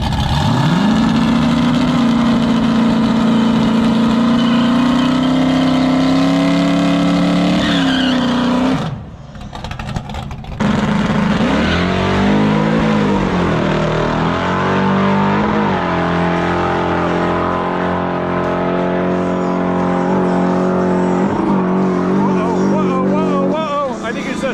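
A Mercury Cougar drag car roars down the strip, its engine winding up loudly, dropping out briefly, then climbing again with rising and falling pitch. Voices are heard faintly beneath the engine.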